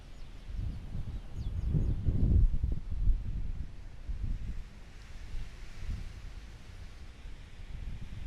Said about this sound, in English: that's so much wind